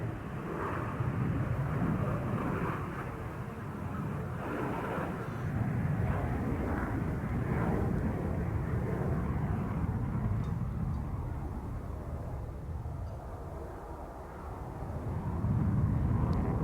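A display aircraft makes a high-speed pass at the 2019 Cosford airshow, its distant jet roar a broad, fairly faint rushing that holds steady and swells slightly toward the end.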